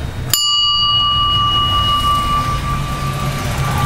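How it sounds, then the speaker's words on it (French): A single small bell shaken by worshippers at a temple in Nepal, one sharp bright strike followed by a long ringing tone that slowly fades over low background rumble. "Les petites cloches que les fidèles agitent"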